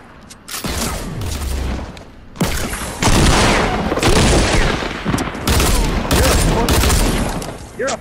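Fortnite shotgun gunfire in Tilted Towers, with several loud, booming blasts in quick succession over busy game noise and a heavy low-end thump.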